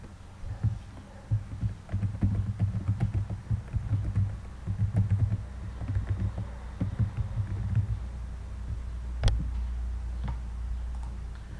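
Keys tapped on a computer keyboard while entering a chart title in an Excel spreadsheet, an uneven run of soft close clicks in short bursts, with no voices.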